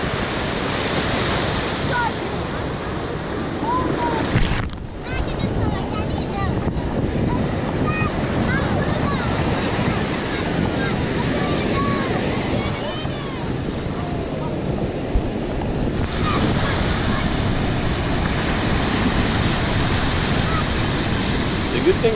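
Rough surf on a windy beach day roars steadily as waves break and wash ashore, with heavy wind buffeting the microphone throughout, loud and continuous.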